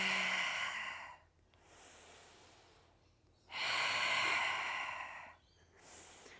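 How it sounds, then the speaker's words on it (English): Deep breaths during pregnancy squats, a long loud inhale, a quieter pause, then a second strong breath and a shorter one, close and alone with no talking. "So it's inhale up, exhale down."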